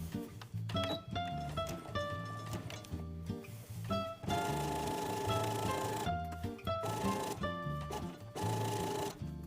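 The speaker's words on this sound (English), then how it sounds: "Sew the edges of the pocket pieces to the skirt." A sewing machine stitching the edges of pocket pieces onto a skater skirt, running in bursts of rapid mechanical whirring with short pauses between runs, close and fairly loud.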